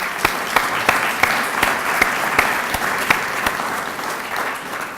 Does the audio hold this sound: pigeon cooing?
no